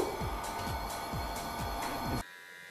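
A Bell & Howell Tac-Shaver, a waterproof electric shaver, runs with a steady buzzing hum and repeated scraping strokes for about two seconds before cutting off abruptly into quiet.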